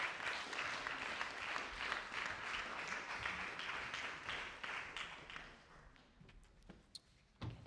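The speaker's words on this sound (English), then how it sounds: "Please give him a round of applause for his incredible courage." Audience applause at a climate press conference in Lausanne, steady and dense for about six seconds, then thinning out into a few scattered claps.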